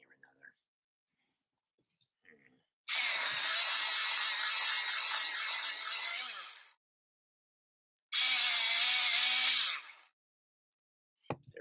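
Electric sharpener in need of repair running in two bursts, a harsh high whirring grind for about four seconds, then a shorter second burst after a pause, loud and close, with faint sounds between.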